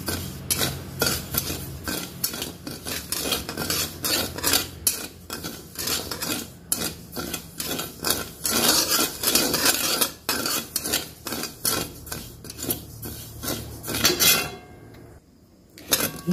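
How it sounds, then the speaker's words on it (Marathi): Barnyard millet (bhagar) roasting over a low gas flame in a pan, stirred steadily with a metal utensil: continuous close scraping and rhythmic clinks against the pan, ending in a brief pause. "गॅस कमी फ्लेमवरती भाजून घ्यायची आपल्याला ही."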